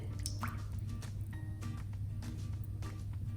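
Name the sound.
oil being poured into a large bowl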